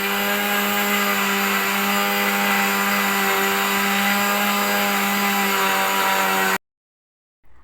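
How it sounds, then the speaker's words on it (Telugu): A kitchen mixer grinder whirs steadily at full speed, blitzing spices together for a fish pickle, a loud continuous motor drone that cuts off abruptly near the end. "అన్నీ కలిపి ఒకటే దగ్గర మిక్సీ పట్టేసిన"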